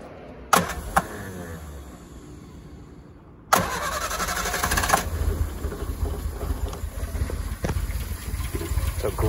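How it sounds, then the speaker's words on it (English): A 1972 Triumph Spitfire cranks with a couple of short starter bursts, then catches after a pause and settles into a loud, steady running engine close by. "Let me start it up for you here."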